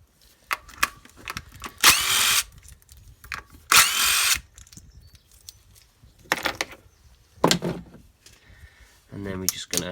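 A power tool such as a drill or driver removes small engine bolts on a K11 Nissan Micra, giving short separate buzzing bursts between quieter stretches with light clinks of metal, close by.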